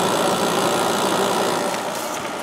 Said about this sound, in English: The Gold Star compressor on this 5200 BTU White Westinghouse gets very quiet after it runs for a while.